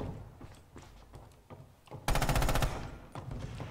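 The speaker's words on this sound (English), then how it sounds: "Cabanoid is firing at Zaki from the window" Gunfire from the Point Blank shooter game: a rapid burst of automatic rifle shots from a window lasts about half a second, set among scattered single shots and thuds.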